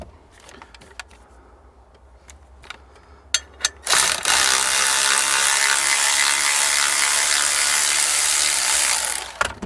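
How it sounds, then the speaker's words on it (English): A ratchet wrench loosens the bolt holding the spring on a Bobcat skid steer seat bar, first a few sparse clicks, then a loud, continuous rapid clicking run lasting several seconds, close up with no talking. "I want to go ahead and loosen this bolt back up, decompress the spring"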